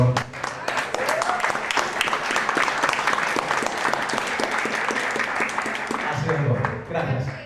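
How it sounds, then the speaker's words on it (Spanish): Audience at a Salvadoran debate on Bitcoin adoption applauds warmly, a dense, sustained burst of clapping that fades near the end as a voice begins speaking. "muchísimas gracias y un fuerte aplausimiento, por favor"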